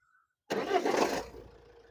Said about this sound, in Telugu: సింగిల్ సెల్ఫ్ అయితే బండి అయితే స్టార్ట్ అయింది